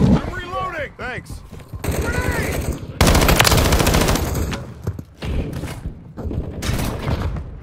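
Dense automatic gunfire from a video game firefight, with rapid bursts and heavy shots running nearly continuously and loudly, briefly dipping before resuming, while voices speak over the din.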